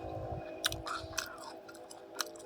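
Someone bites into and chews a crunchy pink guava, about seventy to eighty percent ripe, with a few sharp, close crunches over soft chewing and no talk.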